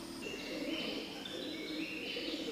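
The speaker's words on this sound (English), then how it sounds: "Pigeons and bats share these sites sheltered from civilization." Pigeons coo softly in a sheltered cavern, low murmuring calls layered over a steady ambient hiss, with faint higher chirps of other birds drifting in and out.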